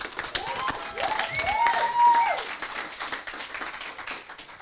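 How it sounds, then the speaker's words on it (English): Applause from an audience at a coding bootcamp demo day in London, moderate and steady for a few seconds with crowd murmur and a voice mixed in. "Big round of applause."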